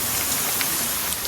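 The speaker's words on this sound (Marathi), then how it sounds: "पावसामुळे एकदम बाहेर कुठं जाता येत नाही" Steady, dense rain falls outdoors during the monsoon, an even close hiss with scattered drop ticks throughout and no voices.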